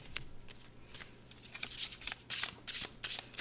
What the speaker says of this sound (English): Let me pull a few more cards for you.